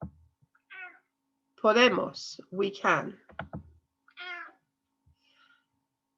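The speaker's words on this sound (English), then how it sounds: "My cat is joining in." A pet cat meows a few times nearby, short tonal cries interleaved with a teacher speaking Spanish vocabulary in a quiet room, with a faint click or two.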